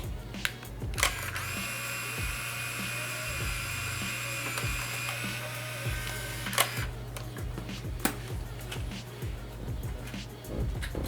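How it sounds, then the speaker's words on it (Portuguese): Film rewinding inside a film camera, a steady mechanical whirring drone with a high whine that runs for several seconds and then stops, scattered small clicks and handling taps throughout, close and fairly loud. "Acabei de rebobinar um filme que estava aqui na minha câmera"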